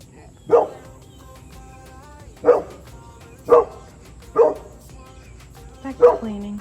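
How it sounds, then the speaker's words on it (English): A pet dog barks in five short, separate bursts at fairly even intervals, close by, over a quiet indoor background. "This is all she does is bark at people."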